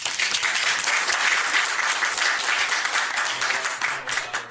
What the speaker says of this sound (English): Give my guests a round of applause.